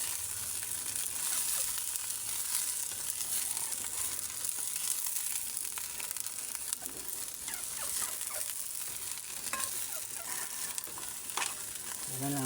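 Vegetables with lemongrass and a little broth stirred in a frying pan for a Filipino bulanglang dish, giving a steady close sizzle with scraping and clinking of the utensil throughout.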